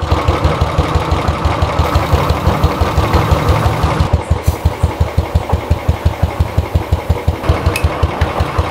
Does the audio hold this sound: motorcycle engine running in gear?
yes